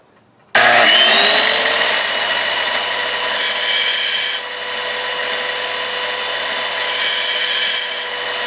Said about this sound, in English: I'm just going to use the tile saw for that purpose, just the edge of the blade